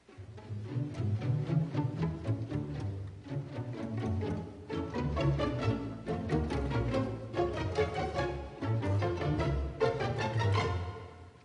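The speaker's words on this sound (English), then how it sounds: "you hear the notes on plucked strings growing from 3 to 5 notes, from soft to loud" Orchestral plucked string notes from a Sibelius piece in short rising groups growing from three to five notes, swelling from soft to louder over a sustained low accompaniment, without speech.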